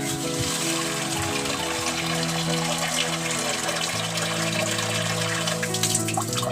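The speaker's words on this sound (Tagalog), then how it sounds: "Maglalagay ako ng water dito." Water runs into a plastic container prepared for salting eggs, a continuous splashing and trickling stream with a faint tonal ring, heard steadily and close without speech.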